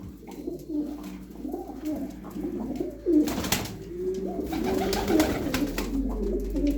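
Aksaray tumbler pigeons coo in low, repeated, throaty calls close by, overlapping one another, with faint rustling and shuffling around them.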